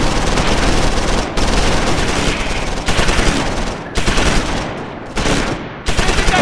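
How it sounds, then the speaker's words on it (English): Bursts of machine-gun fire from MG nests in the Close Combat 5 war game, Battle of the Bulge setting, loud rapid rattling in several long volleys separated by brief pauses. "I think they brought up their MG nests, so they're now suppressing my positions"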